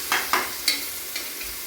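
Mutton masala with tomatoes being stir-fried in a pan: a few quiet spatula scrapes and stirs over a faint, soft sizzle, close by and with no talking.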